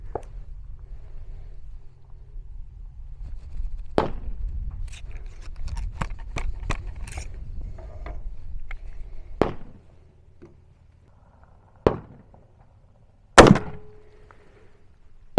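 A CVA Optima V2 muzzleloader pistol loaded with a full powder charge and a Hornady sabot slug fires one sharp, loud report outdoors, with softer rustling and thumps before it and a shorter crack a moment earlier.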